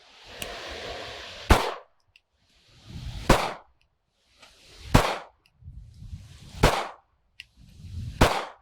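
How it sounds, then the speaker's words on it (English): Five sharp handgun shots from a double-action pistol fired one-handed at a range, spaced evenly about 1.7 seconds apart, each a loud crack with short reverberation, separated by quiet rustling. "That's 5 really good shots."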